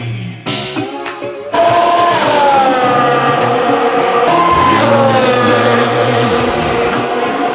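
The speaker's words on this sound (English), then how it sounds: "So cool to hear the F1 cars." Formula 1 cars race past during an FP3 practice session: loud, high-pitched engine whines sweep up and down continuously as cars pass close by, one car after another.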